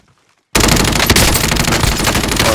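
Sudden loud rapid automatic gunfire from a video game erupts after a brief silence, a dense continuous burst of shots close and forceful, with no talking.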